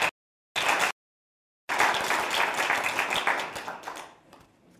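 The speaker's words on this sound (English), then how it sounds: "I think you can give a big clap for that" An audience at the African Renaissance Manifesto event claps in short bursts separated by silence, then breaks into sustained applause that gradually fades away, dense and fairly close.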